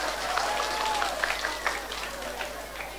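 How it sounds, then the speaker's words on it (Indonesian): An audience at a village religious lecture in Bumiharjo, Keling, Jepara applauds the village head, a dense, continuous patter of many hands at moderate distance with scattered louder claps throughout. "Tepuk tangan dulu dong buat Pak Kades."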